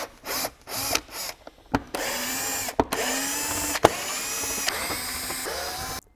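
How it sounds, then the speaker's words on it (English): Power screwdriver with a Torx T25 bit backing out the air filter box screws on a BMW G30 during intake pipe replacement, several short whirring bursts separated by pauses, close and loud with no talking. "with the Torx T25 you can undo all the 6 screws that hold the air filter box"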